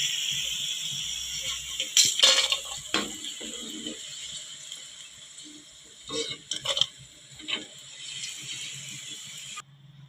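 Okra fries in a pan in a Telugu kitchen, a steady hiss and sizzle with a few stirring scrapes and clatters partway through, close and moderately loud with no talking.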